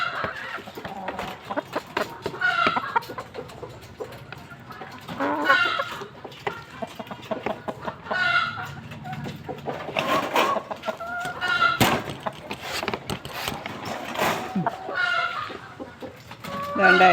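Chickens cluck and squawk near and far while pecking at feed, their calls rising in uneven bursts over a busy farmyard background with occasional faint voices.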